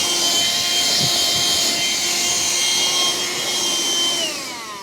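A Black+Decker Dustbuster AdvancedClean Pet handheld vacuum runs steadily and loudly with a constant whine and airy roar, its tone dropping slightly as it winds down near the end.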